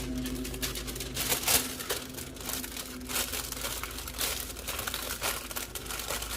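Wax paper crinkled and folded around portions of two pancakes each, a close, continuous run of papery crackles and rustles with a few sharper crunches.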